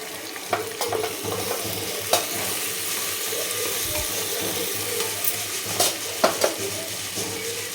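Onion, chili and tomato sauté in a pan with a constant close sizzle, while occasional scraping stir clicks rise above the frying.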